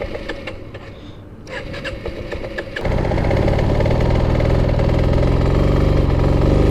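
A 1984 Yamaha Riva 180 scooter engine runs at a steady idle-like putter, then rises to a louder, fuller drone after about three seconds as the throttle opens, continuing close and steady to the end.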